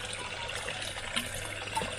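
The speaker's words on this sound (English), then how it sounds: "So you've got that sort of flow coming out of that one, and that just goes back straight back to the pond." Water trickles steadily from the outlet of a homemade shower-style pond filter, running back into the pond as a soft, continuous splashing flow with no talking.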